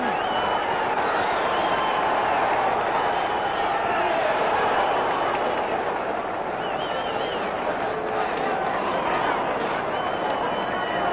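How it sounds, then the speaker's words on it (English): A boxing crowd applauds and murmurs in the closing seconds of a round in the Willie Pastrano versus Andrews fight, a steady roar of clapping and hubbub under a ringside commentator's voice. "Now with 30 seconds to go, the crowd applauding."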